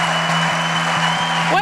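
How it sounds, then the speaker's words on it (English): Crowd applauding in an arena at a women's basketball game, cheering cancer survivors on the floor; dense steady clapping and crowd noise over a droning tone, with a brief rising whistle near the end. "Let's give another round of applause"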